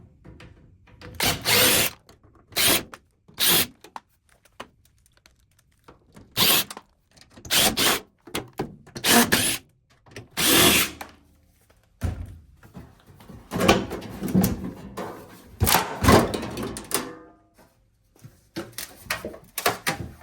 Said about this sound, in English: I'm going to go ahead and remove all the screws in the back here